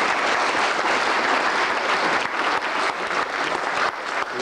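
Sustained audience applause fills a lecture hall, a dense, steady clatter of many hands clapping without pause, loud and close, dipping only slightly toward the end.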